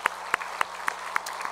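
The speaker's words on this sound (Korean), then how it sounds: "우리 부활하신 주님께 영광의 박수 한번 다시 한번 올려드렸으면 좋겠습니다." A church congregation claps in unison during an Easter Sunday service, six or so crisp, evenly spaced claps in a steady rhythm.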